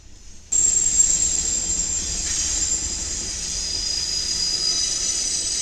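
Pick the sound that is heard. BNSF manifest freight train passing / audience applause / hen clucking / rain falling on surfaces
BNSF manifest freight train passing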